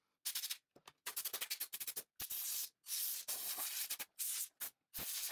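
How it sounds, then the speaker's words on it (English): Compressed air sprays in short, forceful bursts onto the RAM slot of an opened ASUS all-in-one computer, close and loud, with about a dozen hissing blasts separated by brief gaps. "I definitely needed to blow some air here on the RAM slot"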